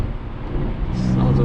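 A 2021 Mercedes-AMG GLE 53 Coupe engine while driving, a low steady rumble inside the cabin that builds slightly, with a person talking over it.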